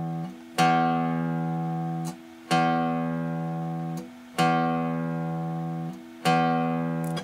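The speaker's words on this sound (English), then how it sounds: "what we can do is to just play the top string like this by itself." An open sixth string is plucked on a guitar four times, each note ringing out loud and clear before slowly decaying, with a brief pause between plucks.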